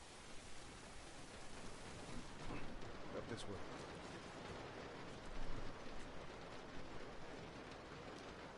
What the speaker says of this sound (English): I love anytime there's this kind of rain sound.